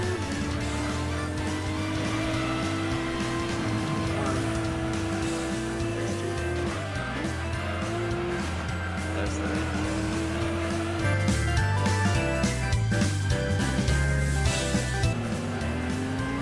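Race cars roar and squeal their tires while weaving through traffic on Special Stage Route 5 in Gran Turismo 2, a continuous loud game engine drone with shifting pitch and rising intensity toward the end.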